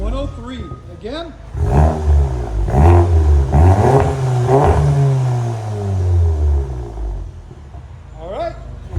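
Close, loud revving from a VW GTI running a Unitronic exhaust and 3-inch downpipe, about 400 hp, with a few sharp throttle blips and then a sustained roar that settles back to a throaty idle.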